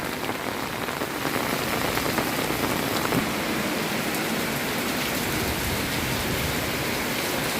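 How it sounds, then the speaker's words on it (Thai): Heavy rain pours down in a dense, even hiss of countless drops on surfaces, loud and unbroken throughout with no voices. "หนาฝนมาหนาฝนมา"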